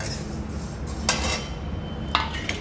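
Cumin seeds lightly roasting in a kadhai for mango pickle, a steady sizzling hiss with a couple of metallic clinks of a spoon against the pan.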